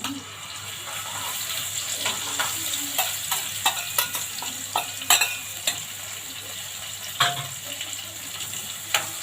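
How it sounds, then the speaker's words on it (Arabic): Garlic pounded with black pepper and salt hisses softly in melted ghee, with scattered clinks and scrapes of stirring over a quiet background hum. "يعني تشويحتين كده في السمنه"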